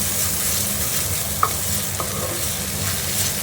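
Green pea filling for vegetarian kachori stirred in a hot pan, giving a steady broadband frying sizzle throughout with a couple of small spoon scrapes, no voices.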